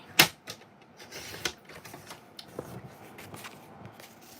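Cardstock being cut for a handmade card, heard as a sharp snap at the start followed by scattered light clicks and tapping, close and fairly quiet with no talk.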